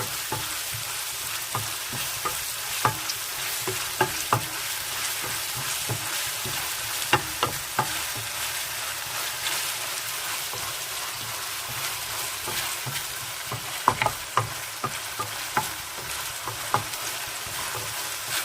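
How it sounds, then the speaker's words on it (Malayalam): Spices tempering in hot oil for a moringa leaf biryani, a dense, steady sizzle with scattered crackles and pops and occasional stirring clicks, close by and with no talking. "ഈ ഓയിലിൽ കിടന്നൊന്ന് ചെറുതായിട്ടൊന്ന് താളിക്കട്ടെ"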